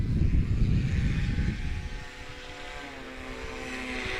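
A STOL airplane takes off during the Swamp STOL competition in Jennings, Louisiana: a loud propeller engine roar that eases into a steady droning whine as the plane pulls away.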